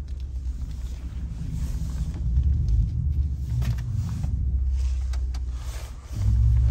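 A modified Ford Fusion Sport's engine revving and roaring as its wheels spin in snow with traction control on, a loud continuous low rumble that surges and swells before rising again at the end.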